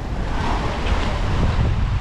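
Strong wind and rough waves at sea during a storm, heard from a fishing boat as a loud, constant roar of gusts and surf battering the microphone.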